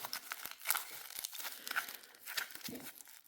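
Aluminium foil crumpled into a tapered oval ball as an armature for a polymer clay duck sculpture: continuous close crinkling and crackling with brief sharper crunches, steady and moderately quiet, no talk.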